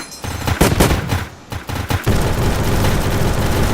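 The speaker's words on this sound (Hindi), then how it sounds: "ये देखो लेवल 6 का टर्रेट मेरा क्या क्या धमाके कर रहा है।" A level 6 turret blasting away in the Zombie Rush video game, loud rapid bursts of gunfire and explosions, first in choppy volleys, then a continuous dense barrage.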